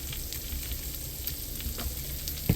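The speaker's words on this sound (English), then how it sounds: "I'm just going to keep kind of mixing these around until they're warmed through and butter coated" Food is stirred in butter in a hot pan, a close, steady sizzle with light scraping passes and a sharper knock of the utensil near the end.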